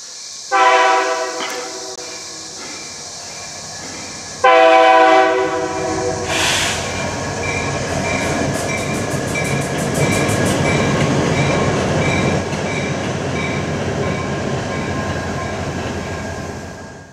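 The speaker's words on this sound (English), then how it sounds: "I managed to catch Norfolk Southern 3541 crossing the bridge with a tank car in tow" Norfolk Southern locomotive 3541 sounds its horn in two loud blasts, then rumbles across a bridge over Big Walnut Creek, Ohio, pulling a tank car. Steady rolling wheel noise and clicks follow, close and loud.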